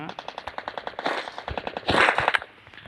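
In a video game, a UMP submachine gun fires rapid, evenly spaced shots that blur into denser bursts near the middle, sharp and close, then briefly goes quiet at the end.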